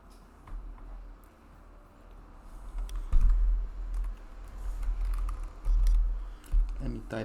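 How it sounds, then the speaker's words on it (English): Someone types a prompt on a computer keyboard, with soft, irregular key clicks over a low background hum that grow a little busier toward the end. "Let me type a prompt."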